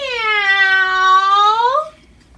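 A single drawn-out meow lasting about two seconds, voiced by a person imitating a cat as part of a story being read aloud. It is clear and close, then fades to quiet.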